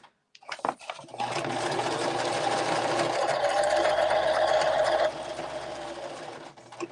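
A sewing machine stitches lace onto a junk journal page in a steady, close mechanical whir lasting several seconds, the pace easing slightly near the end before stopping.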